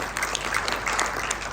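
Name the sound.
applause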